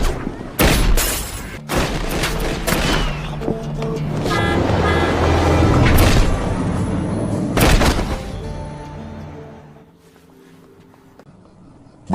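Gunfire in a tense film scene: sharp, loud bangs burst out repeatedly amid a dense, rumbling action soundtrack, easing into quieter tones toward the end.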